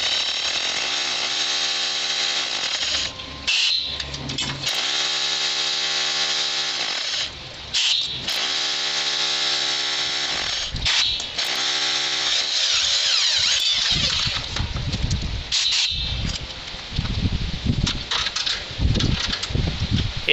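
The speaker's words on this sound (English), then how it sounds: "The rotohammer uses a special bit called an SD bit that handles concrete drilling with no problem." Loud, harsh rotohammer drilling through concrete in repeated bursts with brief pauses, a heavy hammering whine, close by and with no talking.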